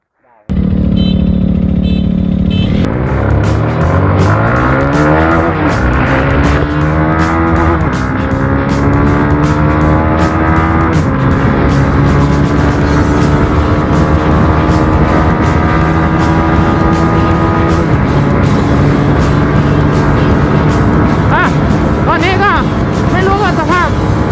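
A Suzuki GSX-R150 and a Demon GR200R motorcycle race side by side in a speed test, engines loud and close, revving up through the gears in repeated rising sweeps, sustained throughout with some talk over them.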